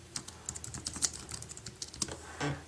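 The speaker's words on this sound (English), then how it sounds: "so if we type in text" Typing on an Apple iPad Keyboard Dock, a quick irregular run of light plastic key clicks close by, ending on a slightly heavier press, with no talking.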